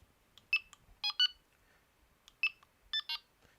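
Delkim carp fishing bite alarm giving short electronic beeps, in pairs and small clusters with gaps between, close and clear against near silence.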